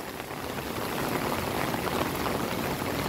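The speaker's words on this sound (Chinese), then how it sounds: "我现在是站在竹溪桥上面，竹溪桥上面我要拍这个人工瀑布，人造瀑布啊。" An artificial waterfall below a bridge in Tainan, Taiwan, pours in a steady, close rushing hiss of falling water, broadband and unbroken for its full length.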